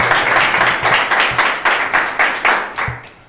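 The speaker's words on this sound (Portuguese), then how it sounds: "Aplausos." A small group claps in a loose, steady rhythm, with roughly a dozen distinct sharp claps spaced evenly and close to the listener, at a rap battle event.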